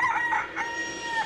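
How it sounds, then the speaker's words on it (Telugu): A rooster crows once, loud and close, in a Telugu comedy film scene, giving a single drawn-out call with rising and falling tones that fills the whole short moment. "కోడి కూసింది"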